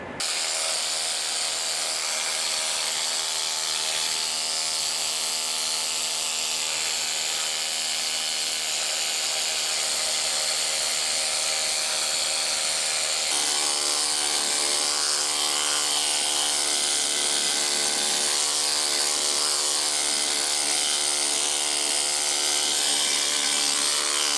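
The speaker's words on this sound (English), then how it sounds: "it's kind of like an air chisel with a bunch of just fingers. And they do a good job at taking off hard scale and rust" A pneumatic needle scaler hammers hard scale and rust off a Neway air ride suspension on a Ford LTL 9000 truck, giving a loud, steady, continuous rattling buzz with no talk over it.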